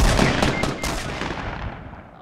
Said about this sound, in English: I'm gonna use my gun.